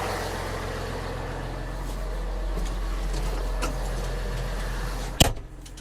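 A Massey Ferguson 6485 tractor engine runs steadily while driving, a low, even drone close by with no talk, ending in a sharp knock or clunk near the end.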